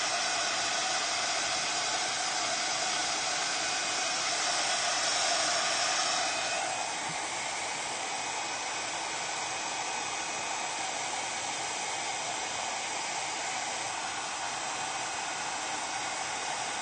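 A hair dryer blows over resin geode glass art, giving a loud, steady whooshing hiss that shifts slightly in tone partway through and then holds constant until the end.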